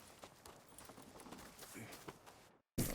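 Horse hooves clip-clop at a walking pace in a Red Dead Redemption 2 stable scene, moderately near and fairly quiet, then cut off briefly before a louder burst of sound.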